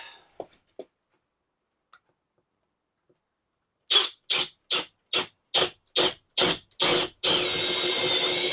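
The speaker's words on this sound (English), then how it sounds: "So I drilled that hole spot on in the right place." A drill boring a hole through a Crafter campervan ceiling: after a few faint taps, it runs in eight short, loud, evenly spaced bursts and then a sustained whirring run, with no talk.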